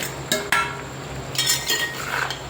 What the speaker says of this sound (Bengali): এটাও দিয়ে ভালোভাবে আমরা নেড়ে দিচ্ছি